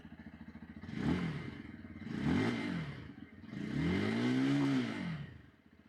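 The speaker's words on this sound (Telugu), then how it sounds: "ఇప్పుడు ఒకసారి ఎగ్జాస్ట్ సౌండ్ విందాం" A Bajaj Pulsar 150 motorcycle engine idles, then revs up three times, each rise swelling and falling back, the last rev held longest.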